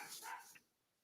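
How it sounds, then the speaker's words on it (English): Dogs barking once in a short burst, faint and somewhat distant, with quiet after. "I can hear my dogs barking."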